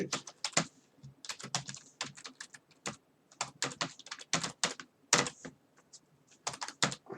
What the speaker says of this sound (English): You can type in whatever you like.